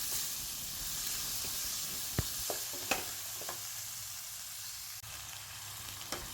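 Onion, tomato, carrot and cabbage sautéing together in a pan for fried vermicelli: a steady bright hiss of frying, with scattered scraping and tapping from stirring, close and continuous, no voices.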